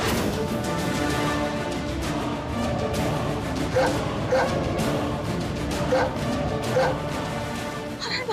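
Ferocious dogs barking inside a haveli, repeated loud barks and yips with whimpers mixed into a dense, busy scene, voices faintly underneath.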